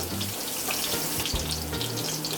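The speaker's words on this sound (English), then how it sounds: "you're going to allow these to fry nice, crispy, and golden brown" Eggplant slices frying in a pan make a loud, continuous sizzle with bubbling oil, close up and unbroken, with a small clatter partway through and no voices.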